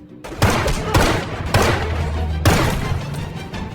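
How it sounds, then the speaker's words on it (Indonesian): Four heavy gunshots ring out roughly a second apart over a continuous noisy background, in a shootout from the 2011 action film The Mechanic. "aksi tembak-tembakan Arthur dan Steve melawan para bodyguard Andre pun tak bisa dihindari"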